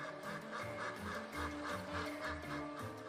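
Geese honking and quacking in a steady, layered chorus, close and fairly loud, with repeated calls overlapping throughout, set at a circus stunt where geese pull a man in a barrel across a bridge in Great Yarmouth, England.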